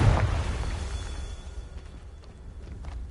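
A Confringo blasting spell explodes in a video game: one loud, low burst at the start, then a rumbling tail that fades over about three seconds.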